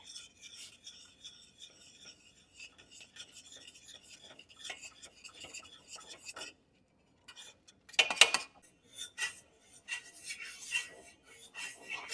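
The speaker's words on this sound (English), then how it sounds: "now we're just going to stir it with this dough whisk" A dough whisk stirs plain flour and salt into choux pastry dough in a home kitchen. Scraping and rasping strokes come in uneven bursts with short pauses, close to the listener, with no talk.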